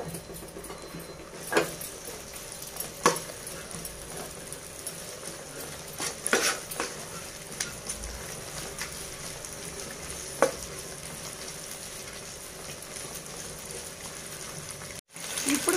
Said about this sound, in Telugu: ఇప్పుడు క్యాబేజీ వేస్తున్నానండి